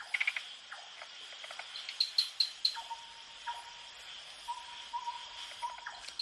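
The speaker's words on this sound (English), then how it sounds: "A night owl, various tree frogs," At night in a Thai forest, a chorus of insects and tree frogs chirps over a steady faint hum, with a few quick repeated owl-like notes and short whistled calls standing out at a distance.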